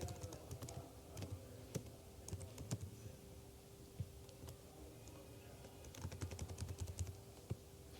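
Fingers type on a computer keyboard while filling in an HTML form, producing quiet, irregular clicks and taps in short bursts with a few sharper keystrokes against a soft background hum.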